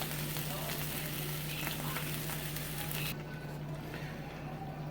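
Food browning in a frying pan for a Mexican-style breakfast, a constant close hiss of sizzling that drops slightly in strength partway through and carries on alone.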